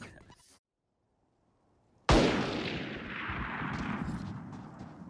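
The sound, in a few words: gunshots in the video game Valorant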